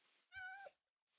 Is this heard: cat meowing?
yes